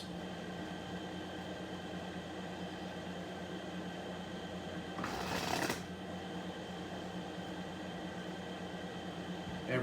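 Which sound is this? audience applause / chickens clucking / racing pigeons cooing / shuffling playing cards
shuffling playing cards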